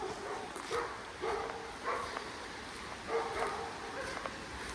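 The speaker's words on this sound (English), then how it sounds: "A lot of dogs barking." Several dogs bark in the distance on a hike toward Purgatory Falls, scattered yips and barks recurring every second or so over steady outdoor background noise.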